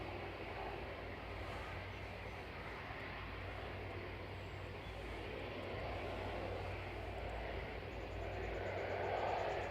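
A jet airliner at Manchester Airport gives off a broad, distant low rumble that holds steady and swells slightly toward the end, faint and continuous with no voices.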